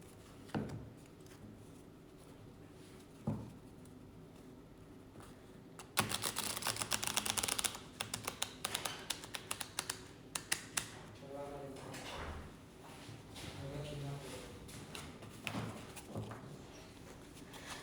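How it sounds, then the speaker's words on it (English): Cards riffle and shuffle in quick bursts of crisp flapping, a busy run in the middle with lighter taps and handling before and after. "Let's shuffle it again."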